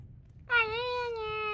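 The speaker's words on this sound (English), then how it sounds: "You can hear him meowing" A single drawn-out cat meow in the video game The Evil Within 2, clear and fairly close, rising slightly and then holding steady against a faint low background hum.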